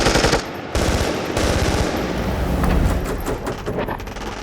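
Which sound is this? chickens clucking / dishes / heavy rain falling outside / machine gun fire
machine gun fire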